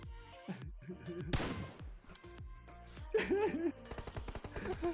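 Gunfire in a shooter video game: a few sharp single shots and short bursts over a busy game mix, with players talking in between.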